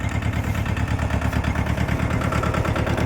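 A tractor engine idles steadily on a farm, a loud, close, low rhythmic chugging with constant vibration throughout and no voices.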